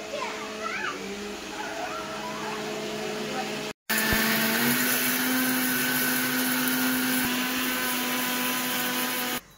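A kitchen mixer grinder whirs steadily at home, a loud continuous motor drone that cuts out briefly and restarts, running to near the end, with children's voices faintly in the background.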